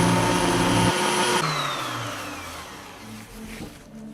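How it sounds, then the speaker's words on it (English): A router with a 1/4 inch rounding bit whines loudly and steadily, then its pitch sags and slowly winds down as it rounds over the edge of a wooden backing plate and spins to a stop. "using a 1/4 inch rounding bit, I'm just putting a bit of a bevel around the edge of the backing plate"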